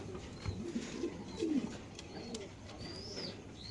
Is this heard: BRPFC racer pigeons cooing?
yes